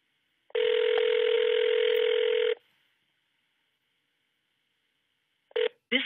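A telephone ringback tone from a call placed through a computer calling service: one long steady tone for about two seconds, then silence, then the start of the next short ring pattern, alone with no talk.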